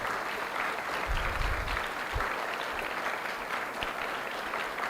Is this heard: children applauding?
yes